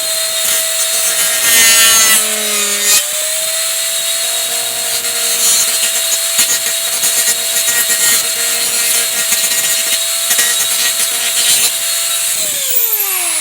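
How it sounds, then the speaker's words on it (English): Trimming a Judge Dredd helmet with a high-pitched power tool gives a loud, close, continuous whine and grinding rasp that holds steady for several seconds, then winds down. "So a little bit more trimming, and I will go ahead and show the inside."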